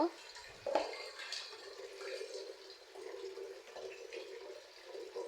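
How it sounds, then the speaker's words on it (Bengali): Running tap water pours steadily over cut leafy greens being washed in a kitchen sink, a continuous close splashing hiss with a sharper splash near the start. "এখন শাকগুলো ভালোভাবে ধুয়ে নিব"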